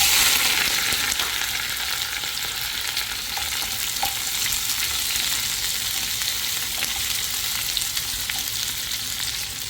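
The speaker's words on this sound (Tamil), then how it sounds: "இந்த வெங்காயம் இதெல்லாமே நல்லா ப்ரௌனாக வறுத்துங்க" Shallots, green chillies and curry leaves fry loudly in hot oil with popped mustard seeds, a dense, continuous close-up sizzle that holds steady throughout.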